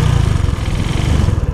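A motorcycle used for touring across India runs up close with a loud, steady, throbbing engine note that pulses evenly throughout, with no voices over it.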